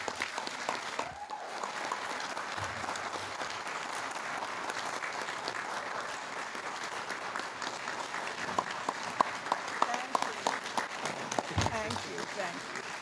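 A crowd at a men's conference claps in a long, sustained round of applause for an honored chancellor emeritus, a dense wash of hands continuing for many seconds, with a few sharper claps standing out near the end.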